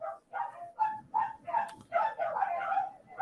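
The neighbour's dogs bark repeatedly in a quick, uneven series of yips and barks. They sound somewhat distant and muffled, with about a dozen short bursts and no talk over them.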